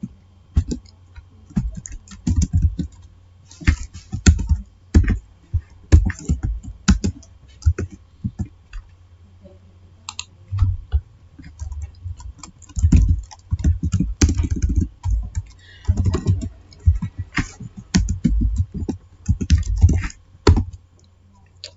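A computer keyboard clatters as code is written, with rapid, close clicks coming in uneven bursts and short pauses throughout.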